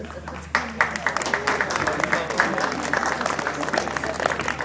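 Scattered applause at a religious wedding ceremony, starting abruptly and continuing as a steady patter of hands, with a voice murmuring over it.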